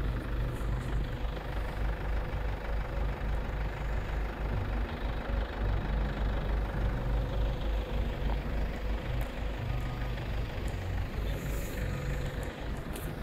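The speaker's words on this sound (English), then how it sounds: "there are some big vehicles coming from that side" Big heavy vehicles, trucks or buses, approach on a snowy high mountain pass in Ladakh, a steady low engine rumble holding throughout at moderate distance with no talk.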